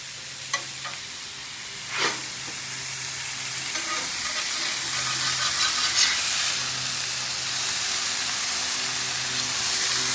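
Mushrooms in a blue cheese sauce sizzle steadily on a hot griddle, a constant frying hiss with a few sharp scrapes of a spatula near the start.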